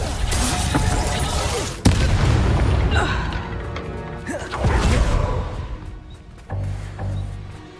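Reductor spell explosions in Hogwarts Legacy land as heavy booms with crashing, shattering debris. A sharp blast hits partway through, and more rumbling impacts follow in uneven bursts.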